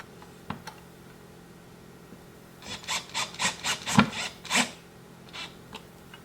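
A run of short, rhythmic bursts of a power drill set to low torque driving screws into wood for a nightstand, close up, about seven or eight quick pulses after a quiet start.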